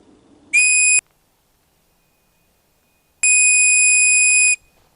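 OEX survival whistle blown outdoors: a short shrill piercing blast, a pause of about two seconds, then a longer second blast, loud and close.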